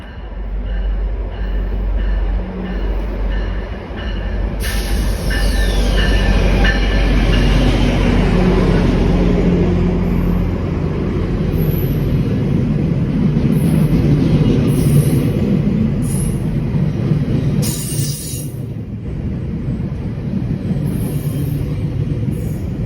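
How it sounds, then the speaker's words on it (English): A GO commuter train rolls past in downtown Toronto, a loud, close, sustained rumble with rail clatter and high metallic squeals, lasting the whole time before easing slightly near the end. "Hey, GO train."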